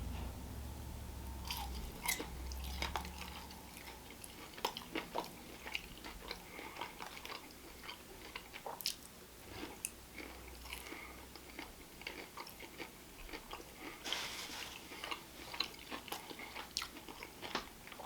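Sticky Texas spicy barbecue chicken wings being eaten up close, with repeated wet bites, smacking chews and occasional crunches in an irregular rhythm and no talking.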